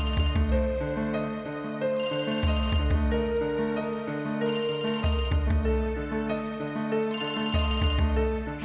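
A telephone rings in a domestic scene from an Odia TV serial: a loud electronic ringtone melody repeats in regular bursts for several cycles, with no voices over it.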